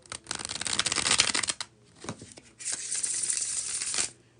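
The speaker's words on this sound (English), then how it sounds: "I will show y'all the bridge shuffle." A tarot card deck being bridge shuffled: a dense riffling flutter of cards for about a second and a half, a pause with a couple of taps, then a second long riffle, close and fairly loud with no talk.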